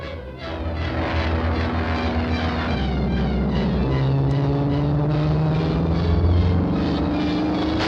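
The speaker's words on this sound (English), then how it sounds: "That goes the plane." Propeller airplane flying in an old film serial, a steady loud engine drone with shifting pitch that runs throughout and fills the scene, with no talk over it.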